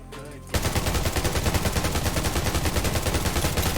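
Automatic gunfire rattles in the video game Undawn as rapid, evenly spaced loud bursts that start abruptly after a brief quieter moment and continue without pause.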